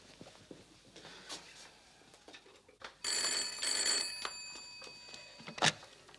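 An old-fashioned telephone bell rings loudly in a burst of about a second, followed later by a short, sharp second ring, against a quiet room background.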